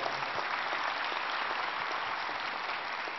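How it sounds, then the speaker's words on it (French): An audience applauds in a dense, even wash of many hands clapping, steady and unbroken for a few seconds with no voices over it. "Je crois qu'on peut applaudir parce que c'est assez impressionnant."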